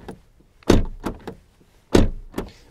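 Front door of a BMW E60 520d being handled, two solid broadband thumps each followed by a couple of lighter latch clicks, close and fairly loud, no talk.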